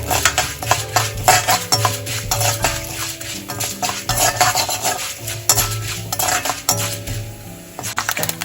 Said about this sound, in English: Just quickly saute till it turns light golden color.